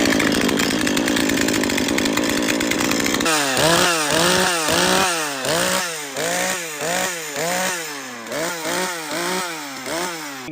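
A loud Husqvarna 440 chainsaw engine roars steadily, then revs up and down repeatedly in a rapid, rhythmic pattern of surging throttle bursts.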